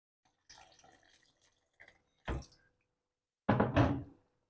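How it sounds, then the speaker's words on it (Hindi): Hot water poured into a simmering kofta masala curry gravy, heard as a few soft splashy bursts with light knocks, the longest and loudest splash near the end, with no talking. "बस मैं थोड़ा सा पानी डालूंगी, वो भी गर्म पानी"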